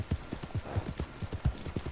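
Horse hooves clip-clop in Red Dead Redemption 2, a steady rhythmic trot that comes through close and moderately loud with several riders, and no speech over it.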